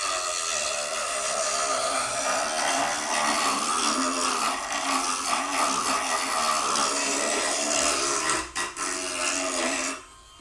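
Edges of a wooden shelf being sanded by hand, a steady loud rasping scrape that runs almost without a break for about ten seconds and stops abruptly near the end.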